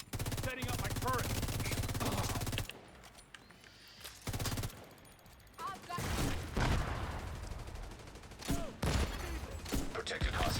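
Video game turret fires repeated bursts of rapid gunfire, loud and dense, with a few short gaps and a voice talking at the start.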